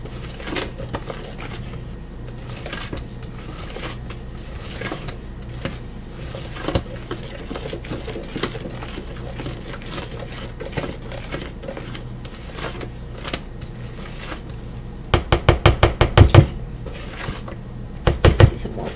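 Cornbread batter is stirred in a bowl with a utensil, giving a steady run of scraping and clinking against the bowl. A burst of sharper, louder knocks comes near the end.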